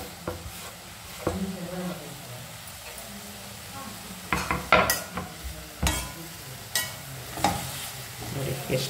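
Vegetables tossed into a pan with soy and chilli sauce fry with a steady sizzle, broken by repeated scrapes and clacks of a spatula stirring, close and fairly loud.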